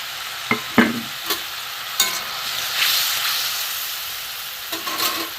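Fried potatoes are added to a sizzling spice masala in a pan and stirred, with a steady hiss of hot oil and a few sharp spoon knocks and scrapes up close, no talking.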